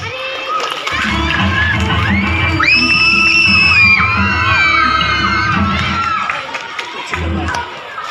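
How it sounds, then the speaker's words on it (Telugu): A school crowd at a Bonalu festival celebration breaks into loud, sustained applause mixed with children's shouts and whoops, holding strong for several seconds before tapering off. "క్లాప్స్"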